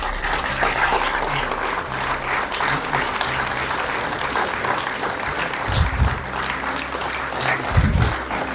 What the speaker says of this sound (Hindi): जब तक हमारे मेहमान वापस जाते हैं आप तालियां बजाते रहें।